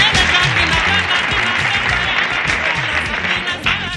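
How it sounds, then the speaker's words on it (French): Audience applauding a model at a televised New Year's Eve fashion show, a dense, loud, steady wash of clapping over a low rhythmic music beat throughout. "Est-ce qu'on peut applaudir pour ce modèle?"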